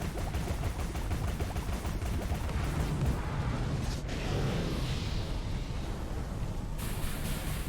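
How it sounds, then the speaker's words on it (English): Artillery barrage in Alice: Madness Returns, a continuous dense roar of rapid booming blasts and rumbling impacts that stays loud and unbroken throughout, with no voices over it. "I don't remember the previous encounters having the weird artillery barrage."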